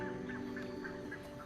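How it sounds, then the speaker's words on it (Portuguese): A large group of water birds gathering to nest in the Pantanal wetlands during the dry season gives repeated honking, goose-like calls that overlap in a busy chorus. "As aves aquáticas estão prontas para pôr seus ovos. Elas se reúnem em grupos numerosos"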